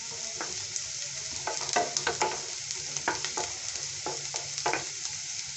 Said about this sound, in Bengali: আমি ভালোভাবে ভেজে নিচ্ছি